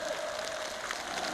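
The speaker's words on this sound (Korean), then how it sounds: "열광적인 만세 환호를 올리고" A large crowd at a North Korean party meeting applauds and cheers enthusiastically, a dense continuous wash of clapping and shouting throughout.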